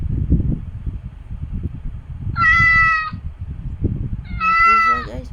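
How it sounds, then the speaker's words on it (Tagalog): A cat at Changi Airport gives two clear, drawn-out meows, the second longer and wavering, over a murmur of background noise. "May pusa guys, may pusa."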